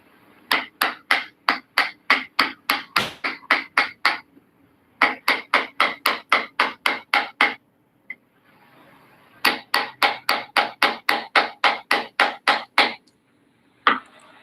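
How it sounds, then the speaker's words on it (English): A hammer drives a chisel into wood to cut out a recess, striking in three fast, even runs of sharp, close knocks. Short pauses separate the runs, and one last lone blow follows. "I'm going to take this out with a chisel rather than trying to do with a router."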